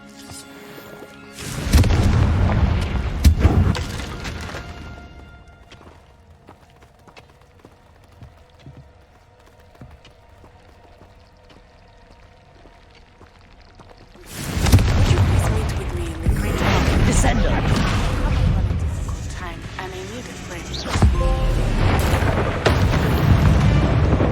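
Confringo blasting-spell explosions in Hogwarts Legacy: a loud burst of booming blasts, a long quieter stretch with low rumble, then another sustained run of heavy, crackling explosions near and loud.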